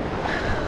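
Ocean surf breaking while surfing off the coast of Sri Lanka, a steady close wash of waves and water with wind buffeting the microphone throughout, no voices.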